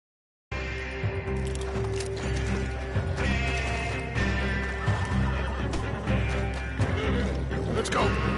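Horses neighing and whinnying in Red Dead Redemption 2, mixed with clattering hooves, mechanical rattles and ongoing gunfight noise, with talk in the scene.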